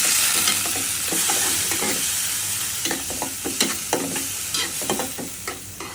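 Shrimp frying with turmeric in a pan gives a loud, close hiss that gradually eases, with a quickening run of scraping stirs and spatula knocks in the second half, no speech present.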